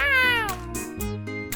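A cartoon cat meows twice, a long falling mew followed by a shorter one, loud and close over a soft music bed with no talking.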